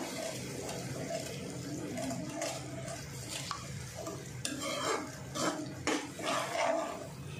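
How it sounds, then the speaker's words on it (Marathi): Spiced paste with green chillies cooking in a pan while being stirred, a steady low sizzle with intermittent scraping strokes of the spoon growing busier toward the end, close and moderately quiet, with no talking. "आता ही पेस्ट थोडीशी शिजून द्या।"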